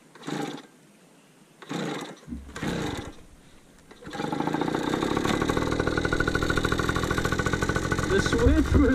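After a few short bursts of voices, a pit bike engine in Datto, Arkansas catches and idles steadily, close and loud, with a rapid, buzzing, even rhythm.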